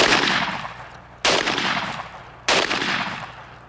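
Three loud, sharp gunshots ring out at a turkey shoot, spaced about a second and a quarter apart, each followed by a long decaying echo, with no voices.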